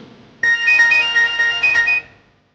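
A phone rings for an incoming call with a bright melodic ringtone, a quick run of repeating beeping notes that starts suddenly and stops after about a second and a half.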